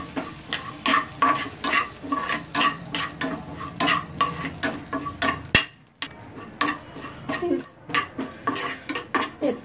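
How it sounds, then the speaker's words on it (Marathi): Sesame seeds stir-roasted in a dry pan for pointed gourd seed chutney, a rapid series of close spatula scrapes and clinks against the metal over a soft sizzle, with a brief pause midway. "त्याच्यामध्ये तीळ परतून घ्यायचे"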